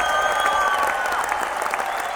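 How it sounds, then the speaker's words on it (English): Canned applause sound effect, a dense continuous wash of crowd clapping and faint cheering at steady volume, played alone without any talking. "That applause is not real."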